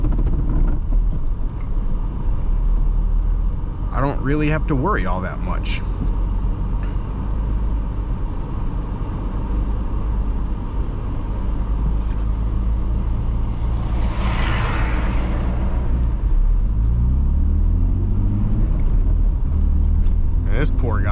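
A turbocharged rear-wheel-drive BMW E36 drift car driving on snowy roads, heard from inside as a constant low engine and road drone with a brief louder passing vehicle, under someone talking throughout.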